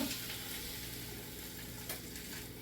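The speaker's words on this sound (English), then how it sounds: "stick this in your frying pan away from you" Quiet, steady sizzling of a garlic parmesan crusted pork chop frying in a pan, a continuous crackling hiss with no talking.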